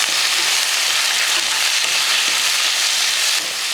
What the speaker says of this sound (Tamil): கூடவே தக்காளி போட்டதுக்கப்புறமா ஒரு சின்ன துண்டு புளியை சேர்த்து வதக்கி விட்ருவோம்.